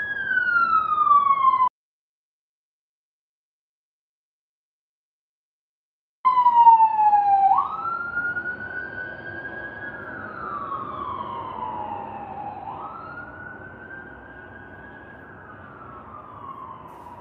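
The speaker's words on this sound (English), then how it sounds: "It's gonna get real loud, y'all, because there's a fire truck coming." A fire truck siren wails loudly and close, sweeping up and down in long slow cycles with a steady horn-like tone, cut by a brief gap of silence before continuing and gradually easing off as it passes.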